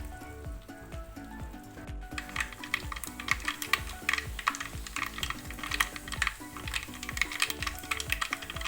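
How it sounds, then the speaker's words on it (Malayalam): Mustard seeds pop and spatter in hot coconut oil while a sardine curry is made, a close, dense run of sharp crackles and ticks over a soft sizzle. "കടുക് പൊട്ടി വന്നിട്ടുണ്ട്."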